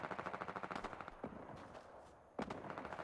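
Rapid bursts of automatic gunfire in a Fortnite match rattle in quick rhythmic volleys, pausing briefly before a sharp new burst resumes.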